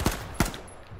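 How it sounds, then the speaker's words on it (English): Two sharp magnum revolver shots from the H1Z1 battle royale game, loud and close, spaced about a third of a second apart, with no talk over them. "Oh, I killed him! With a magnum."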